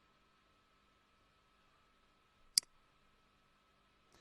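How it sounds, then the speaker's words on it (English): A single sharp computer mouse click sounds against a near-silent, faintly humming background, with a tiny second tick near the end. "you have to come here and then click on settings"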